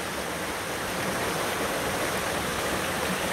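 Waterfall in Lancashire pouring steadily, a dense, continuous broadband rush of falling water, close and loud with no pauses or voices.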